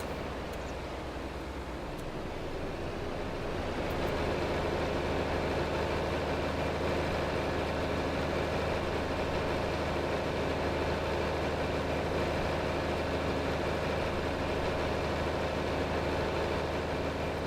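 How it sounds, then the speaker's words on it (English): A 300-horsepower tractor engine in a farming video game idles steadily with a low, constant rumble that swells slightly after the first few seconds and then holds even and moderately quiet. "This tractor is kind of cool though."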